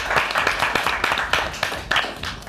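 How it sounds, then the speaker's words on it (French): A small studio audience on a French web TV show applauds, with brisk, uneven clapping and a few louder claps poking through a steady patter. The clapping is fairly close and lasts a couple of seconds. "Ça, on peut l'applaudir pour ça,"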